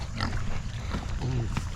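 Pigs grunting and squealing close by during farmyard training, a few rising calls standing out over a steady low rumble of snorts and shuffling, with a person's voice faintly mixed in.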